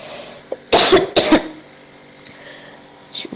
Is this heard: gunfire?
no